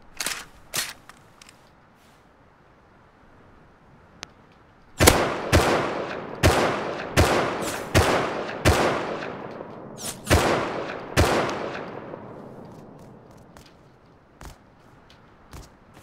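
Gunfire from the survival game Rust cracks in sharp, close shots: a pair at the start, a lone faint pop, then a rapid run of about nine loud reports that ring out and decay, with silence between.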